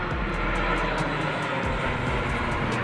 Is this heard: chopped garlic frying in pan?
no